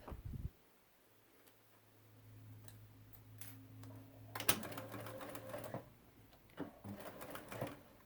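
A sewing machine stitches binding onto a quilted project, starting after a short pause with a soft hum that breaks into quick rapid needle ticks in short bursts.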